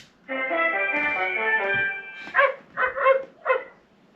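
A Temu AI robot dog toy gives a synthetic electronic bark, first a long warbling tonal yap and then three or four short separate barks, close and fairly clear with no talking.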